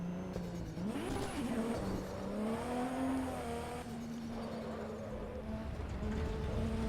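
A car drifting in the Assetto Corsa Evo racing game, its engine droning and revving steadily while the tires squeal continuously through the slide, loud and close.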